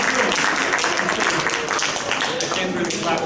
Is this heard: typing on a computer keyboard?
no